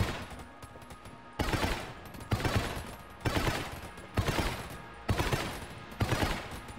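Rapid gunfire bursts from the video game Enter the Gungeon, about six loud volleys at a steady rhythm roughly a second apart, with quieter clatter in between and no talking.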